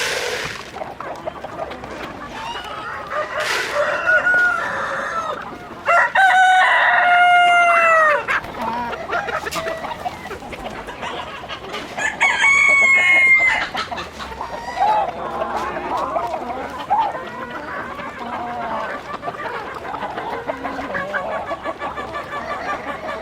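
Chickens cluck and a rooster crows inside a roofed coop, with bursts of loud crowing standing out over steady nearby clucking and scattered bird calls, no talking.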